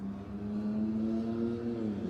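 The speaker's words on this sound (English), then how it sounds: "that sound isn't from this car, that's somebody passing by" A passing car with a racer-like engine note hums by steadily, its tone rising slightly before a quick drop, moderately faint and heard alone.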